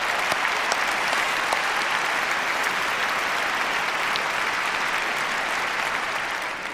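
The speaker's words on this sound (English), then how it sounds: "Let's hear it for them too, please." An audience in a large hall gives sustained applause for a choir and orchestra at Temple Square, a dense, steady wash of clapping that holds at an even level throughout.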